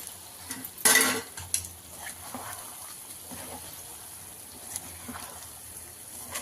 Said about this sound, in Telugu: ఇంకా ఇది 2-3 నిమిషాలు వేయించుకుంటే చాలండి.